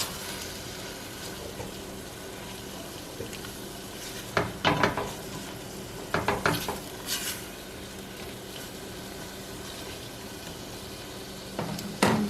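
A peanut butter stew with tomatoes and chopped bell pepper cooks with a soft background sizzle, broken by a few bursts of spoon stirring and pot scraping, close and fairly quiet.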